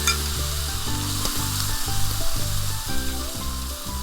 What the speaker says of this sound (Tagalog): Painitin ang sizzling plate. Maglagay ng butter or margarine para mas makadagdag sa lasa ng ating tahong.